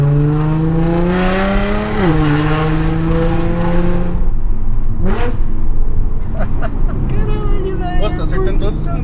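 An Audi A7 3.0 V6 turbo with an Armytrix valvetronic exhaust and APR remap holds a droning engine note that drops sharply as it downshifts, followed by a crisp pop and a rough burble mixed with talking.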